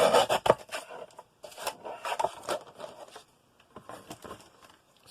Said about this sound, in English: And I'm going to trim that one off that one, and then trim this one off.